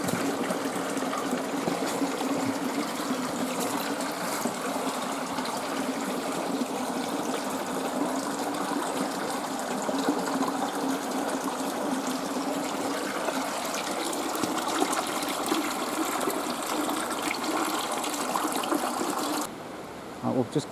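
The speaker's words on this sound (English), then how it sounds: "it's sitting at the entrance of that little stream" A small river stream flows steadily with a broadband watery rush, continuous and fairly close, with faint voices now and then beneath the water.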